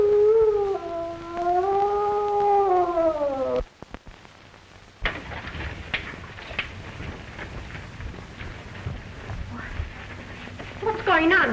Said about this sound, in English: Heard a terrible moan from Mr. Harrison's room